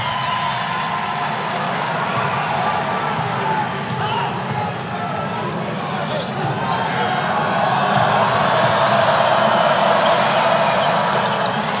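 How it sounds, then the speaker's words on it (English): Home crowd roaring at a Wake Forest men's basketball game against Virginia, a loud continuous rumble of cheering that builds toward the end, with sneaker and ball sounds and a commentator talking over it. "Best crowd of the season"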